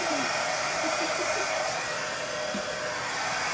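A hand-held dryer blows steadily at close range to dry bunting garland craft pieces, a loud continuous rushing whoosh with no talk.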